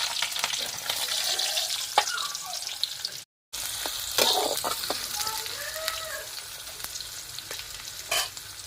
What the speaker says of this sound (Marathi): चिलापीचा रस्सा बनवते आता. कांदा घेते टाकून, तेल पण बघा किती टाकलंय.